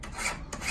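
Steady rasping strokes of a fine file on 14K or 18K gold jewelry, close and continuous with a brief dip mid-stroke, no talking.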